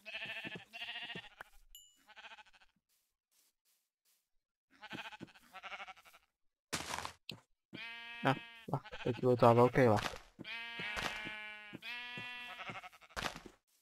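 Minecraft sheep bleating in bursts alongside a person speaking Czech, the bleats clear and fairly loud between stretches of talk.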